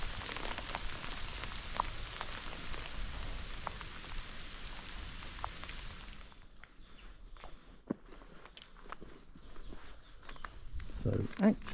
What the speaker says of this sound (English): We now have hailstones.